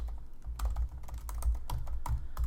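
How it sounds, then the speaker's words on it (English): Essay typed on a computer keyboard, a close, steady run of key clicks with thumpy low taps at an uneven typing rhythm, heard alone with no voices. "Keep typing your essay until it's finished."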